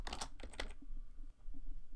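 A few quick bursts of typing on a computer keyboard at a command prompt, crisp clustered key clicks up front, then scattered faint taps against a quiet room.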